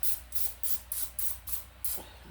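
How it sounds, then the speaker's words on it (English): A series of short, hissing bursts of cooking spray onto cake pans, about seven in steady rhythm, each a quick pump of aerosol mist, fairly faint and close. "So I'm going to spray my pans a little bit so they won't stick."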